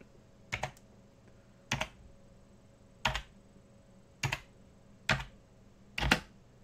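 Keys clacking on a computer keyboard during a Linux desktop test, six separate short bursts of a few rapid clicks each at a steady pace, close and fairly quiet with no voice.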